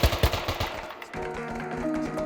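Rapid automatic gunfire in Arma 3 rings out from an enemy bunker, a burst of sharp cracks followed by a sustained sputtering rattle, moderately loud and heard alone.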